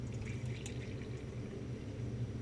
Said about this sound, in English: So what I'm going to do is pour this concentrated liquid